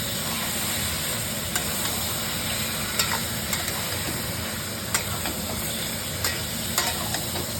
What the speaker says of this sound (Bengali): আমি এটাকে ভালো করে ভেজে নিচ্ছি।